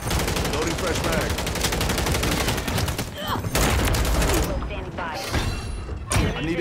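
Full-auto M16 fire in Modern Warfare 3, a loud, dense, sustained rattle of rapid shots with brief gaps and bursts, layered over game voices and battle noise.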